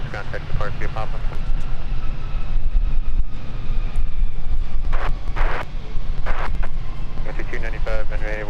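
A small aircraft lands on the south parallel runway at Minneapolis–Saint Paul airport, a steady loud engine roar buffeted by wind, with air traffic radio voices talking over it.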